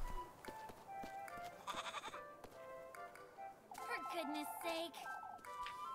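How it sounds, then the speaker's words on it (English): A goat bleats amid busy game audio, with music, chimes and chatter layered around the wavering animal cries. "You and that goat of yours, Rosmarine."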